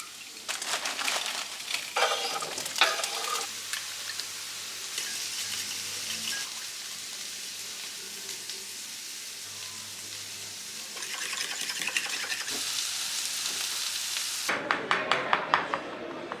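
Potato and other vegetables cook in a pan before going into a quiche, a steady soft sizzle and frying hiss with scraping stirs and clattering utensil bursts. Moderately loud throughout, with no talk.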